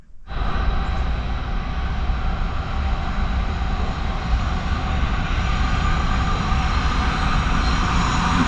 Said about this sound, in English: Coal train right out my window.